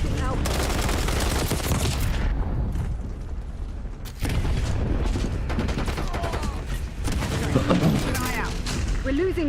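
Dense gunfire and booming explosions fill a video game battle, a near-continuous loud barrage with bursts and blasts, while a voice talks over the noise.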